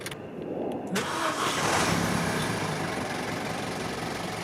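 A cheap used Vauxhall Corsa with a rough-idle fault and a returning engine warning light cranks and catches about a second in, then settles into a steady, close idle that runs alone to the end.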